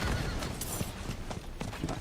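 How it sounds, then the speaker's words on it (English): A horse ridden in Diablo 4 by a level 100 Barbarian clops along with quick, steady hoofbeats, a dense rhythmic trot that holds evenly throughout without pause. "Riding around on my horse,"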